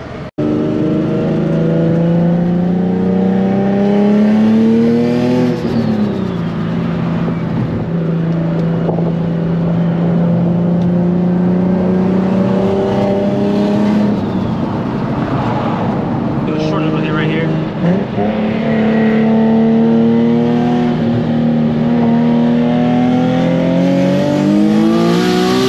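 A turbocharged Nissan 350Z making over 700 wheel horsepower pulls hard through the gears on a drive, its loud engine note rising and dropping at each shift, heard close from inside the car.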